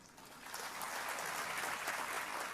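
Audience applause at a motivational talk in Gujarat, a steady wash of clapping that swells slightly after the first half second and holds evenly, moderately distant, with no voices over it.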